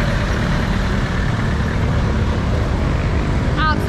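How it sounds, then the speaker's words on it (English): Loud, dense traffic roars steadily on a busy, overcrowded Manila city street, a constant rumble of cars, trucks and buses with a brief higher whine near the end. "I don't know if you're gonna hear anything apart from traffic in the background of this video"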